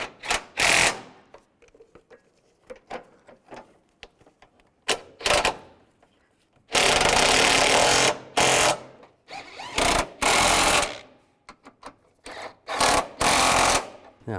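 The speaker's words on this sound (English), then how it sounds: "Put the bolts back in. Get those all started. Tighten those down." Engine mount bolts are run in and tightened on a 2006-2011 Cadillac DTS, probably with a power tool. Loud, close bursts of whirring and ratcheting alternate with short pauses and one long continuous run.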